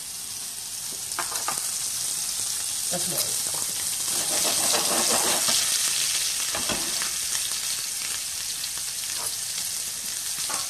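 Steady, loud sizzling of meat frying in a hot pan, crackling and spitting throughout, with a brief spoken word near the start.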